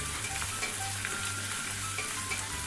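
Ginger, garlic and green chilli sauté in hot oil for Kerala-style mutton roast, a steady close sizzle with a low hum beneath and light stirring scrapes, no voices.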